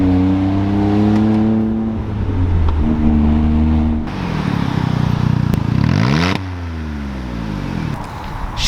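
A car engine is floored and revs hard, pitch climbing, dropping at each upshift and climbing again through several gears, loud and close with no talk.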